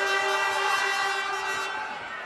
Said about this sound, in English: She'll be forever known as Air Horn Lady.